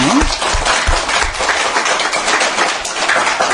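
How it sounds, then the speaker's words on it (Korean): A short burst of applause from a small group at a Buddhist dharma lecture, steady clapping throughout without any talking. "박수 좀 치고"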